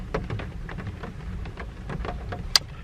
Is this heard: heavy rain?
yes